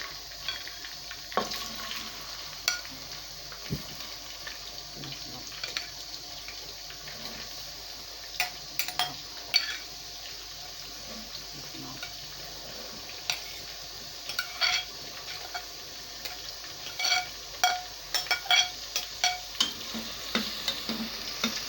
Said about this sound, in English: I'm going to fry my onions.